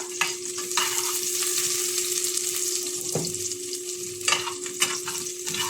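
Garlic frying in a pan for a home-cooked sauté, a steady close sizzle with crackling pops and a few stirring clatters, no talk.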